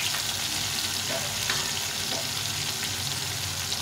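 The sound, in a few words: ginger, cumin, coriander spice paste frying in a pan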